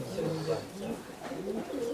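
A Madrasi Kalanka pigeon gives soft, rolling coos in a repeated low rhythm, heard close up with a voice murmuring in the background.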